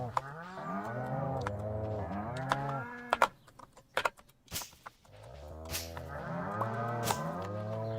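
Cattle lowing in the farming video game Stardew Valley, several drawn-out moos in overlapping pairs, loud and close, separated by a brief burst of clicks and clatter from the game.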